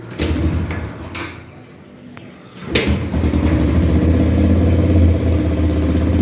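Vehicle engine running on choke while warming up: an uneven idle that dips and sputters, then catches again and settles into a loud, steady throbbing idle close by, with someone talking over it.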